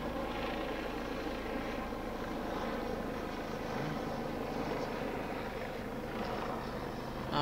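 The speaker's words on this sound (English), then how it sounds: "Again, the JDF helicopter, I guess they're doing some training exercise." A Jamaica Defence Force military helicopter on a training exercise passes over the Port Royal Street waterfront in downtown Kingston: a steady low rotor and engine drone, moderately distant, holding even throughout with no talk.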